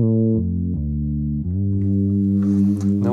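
Bass guitar plays the melodic intro line of a song, a run of sustained, slightly distorted notes stepping in a slow rhythm, close and loud with no voices.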